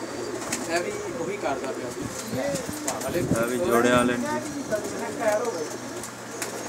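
Pigeons coo softly in the background while someone talks over them, with some clattering nearby, at a Pakistani pigeon keeper's loft.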